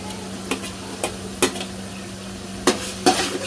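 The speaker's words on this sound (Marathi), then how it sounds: "मिरचीला पण छान आपण तेलामध्ये परतून घेऊया" Green chillies fry in oil for pav bhaji while a spoon stirs and scrapes the pan, giving a few sharp clinks over a steady low sizzle.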